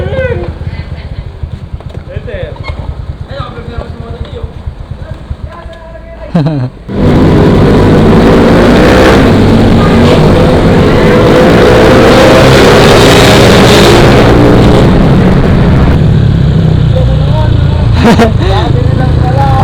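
A motorcycle engine starts and runs after a repair that traced the fault to the battery. It begins after a quieter stretch, then roars loud, close and steady with revving and some background voices.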